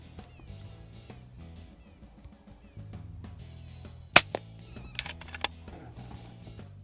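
An air rifle fires at squirrels while hunting, a handful of sharp, short cracks in quick succession, the first the loudest, over quiet tonal background sound.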